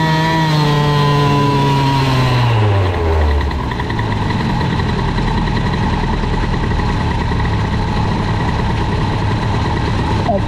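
A nitro scooter engine fitted with a Metrakit 70 kit and boost crankcases runs loud and close, its pitch sliding downward as it drops from high revs to a steady, rough, buzzing drone.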